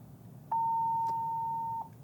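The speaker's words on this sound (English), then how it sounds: "You're gonna hear that beep." A two-way radio gives one steady, clear tone lasting just over a second as its emergency button is deactivated, set against quiet background hum.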